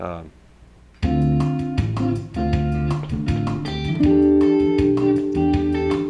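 Guitar strums a progression of sustained chords at a steady rhythm after a brief quiet start, each chord ringing clearly and fairly loud.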